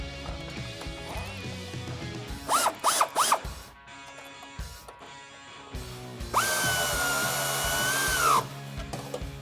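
A 10mm socket wrench ratchets as pinch weld bolts are tightened during a side step install on a two-door Jeep Wrangler JL, heard as short close clicking bursts with metallic handling noises and brief high squeaks.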